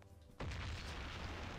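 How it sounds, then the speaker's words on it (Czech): Sudden deep boom of a grenade explosion in the Mafia video game, loud and close, followed by a sustained rumbling roar that lingers without fading. "Grenada, výbuch."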